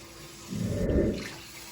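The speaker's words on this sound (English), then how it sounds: "Now it's time to add milk." Milk, about three cups, poured into a pan for breakfast gravy: a soft liquid gush swells in the middle of the stretch and tapers off, heard alone without voices.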